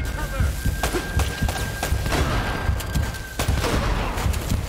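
Shotgun blasts in the video game Uncharted: Drake's Fortune come as repeated heavy booms amid ongoing combat noise, with a voice talking over the action.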